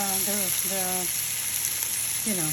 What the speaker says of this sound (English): So now I'm going to add the onions first.